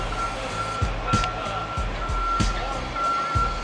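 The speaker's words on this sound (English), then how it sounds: "And the cement truck just pulled in, as you can see." A cement truck backs up in downtown San Diego, its steady reversing beeps pulsing over a loud, rumbling engine and street noise.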